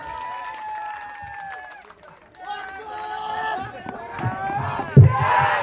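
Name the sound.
audience applause and cheering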